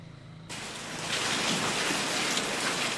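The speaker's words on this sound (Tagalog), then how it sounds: "Tuloy-tuloy ang ulan sa Mamburao, Occidental Mindoro sa nakalipas na magdamag." Heavy rain pours down steadily in Mamburao, Occidental Mindoro, starting abruptly and building to a dense, constant hiss of drops on surfaces with no voices.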